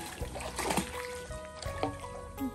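Water trickles steadily at a Khok Nong Na style farm in Thailand, a soft continuous flow with faint tonal sounds drifting over it.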